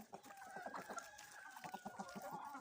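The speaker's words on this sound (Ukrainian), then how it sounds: "Півник кличе їх до себе." A rooster clucks repeatedly in short, rhythmic bursts, with hens' soft clucking mixed in nearby and steady outdoor background noise.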